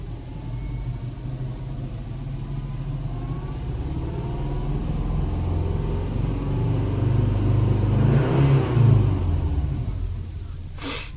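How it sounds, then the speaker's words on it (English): A car engine revs up and settles back as the throttle is pressed and released during a throttle position sensor check with a scan tool, a steady rumble that swells toward the end, heard up close without talk. "as I hit the gas, release the gas, this is the voltage"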